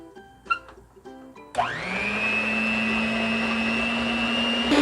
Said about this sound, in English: Now we have to mix it in the mixer for a little bit.